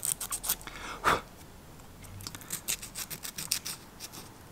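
Emery paper rubbing down a soft metal part of a Rotax Senior Max 125 kart engine, with quick, close scratchy strokes in an uneven rhythm and one heavier scrape.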